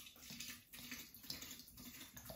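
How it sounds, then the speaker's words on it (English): Gin is poured over sloes in a jar, a soft continuous trickling and splashing of liquid, faint and close, running steadily for a couple of seconds. "And then you just pour your gin on"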